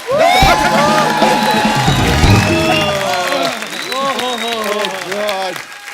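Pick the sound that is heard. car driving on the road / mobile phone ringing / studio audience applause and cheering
studio audience applause and cheering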